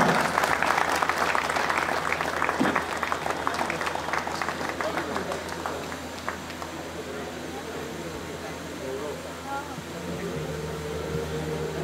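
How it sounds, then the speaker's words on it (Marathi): Loud, dense applause from an audience at a school reunion felicitation for the 2001/02 SSC batch of Gadhinglaj High School, sustained throughout and tapering slightly toward the end, with faint talk underneath. "जोरदार टाळ्या."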